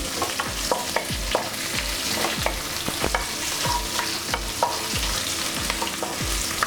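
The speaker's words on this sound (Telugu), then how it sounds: "అలానే 2 పచ్చిమిరపకాయలు లైట్గా ఫ్రై చేసేసుకుని" Two green chilies lightly frying in a pan for an Andhra Malabar spinach dal, a steady close sizzle broken by regular scraping knocks of a spoon stirring against the pan, with no voices.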